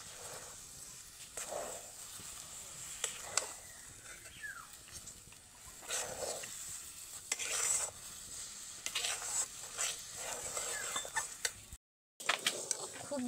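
Semolina dough is stirred in a wok as it thickens for paratha, giving quiet, repeated scraping and rubbing strokes against the pan with faint sizzle, close but soft, briefly cutting out near the end.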